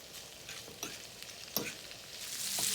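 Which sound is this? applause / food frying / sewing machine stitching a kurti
food frying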